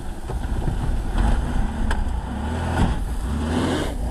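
A 1997 Pontiac Grand Am with a clogged muffler runs in a steady, loud, rough rumble with a few faint clunks and no voices.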